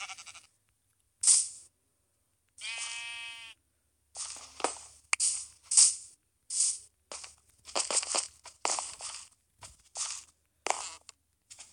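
Sheep bleat repeatedly up close, one wavering cry standing out early, followed by a run of short crunching and rustling sounds with quiet gaps between.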